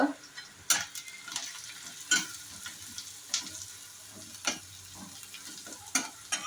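Onion fries in a pan with turmeric and asafoetida, a soft steady sizzle broken by repeated sharp scrapes and taps of a stirring spoon, with no talking.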